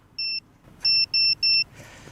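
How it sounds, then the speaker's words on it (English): An FPV drone's buzzer: a short electronic beep followed by three quick identical beeps, high-pitched and loud, over faint background noise. "And this noise is from the buzzer."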